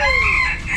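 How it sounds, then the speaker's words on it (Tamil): A rooster at a bird park in Trichy, kept among native chicken breeds, gives a single loud, close crow that holds steady and then trails off. "கோழி எல்லாம் சேவல் தான்டா,"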